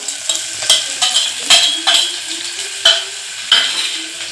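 Bitter gourd being tempered with garlic and ginger in a hot pan in a home kitchen: sharp bursts of sizzle and utensil scrapes recur every half second or so, close and loud, with no talk.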